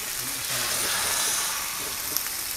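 Fried noodles sizzling in a wok at a village noodle stall, a steady close frying hiss that fills the clip with faint stirring and a brief voice underneath.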